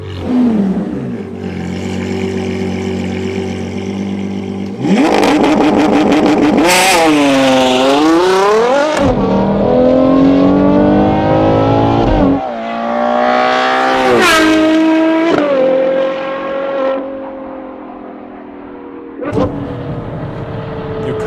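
A Ferrari Purosangue V12 with a Novitec exhaust revs hard and roars, its exhaust pitch sweeping up and down through several loud, close throttle blips with no talking.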